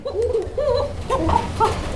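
Fancy pigeons at a market stall coo in soft, throaty, wavering phrases, close and fairly loud, several rolling coos in quick succession.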